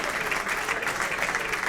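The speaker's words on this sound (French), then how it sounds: "On applaudit très fort, mesdames, messieurs." Steady, dense applause from an awards-ceremony audience fills the space, loud and continuous without breaks.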